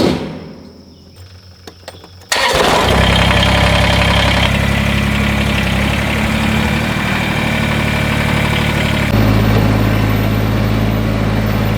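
A tractor engine, used for tilling during summer chores, cranks and catches after a couple of quiet seconds, then settles into a loud, steady, close-up idle rumble that continues to the end.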